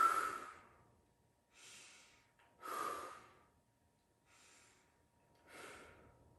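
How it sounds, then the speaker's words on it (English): Deep, slow breaths during a low-impact hand-weight workout, five soft breathy inhale-exhale swells spaced evenly and heard close and quiet with no talking. "Take some nice deep breaths."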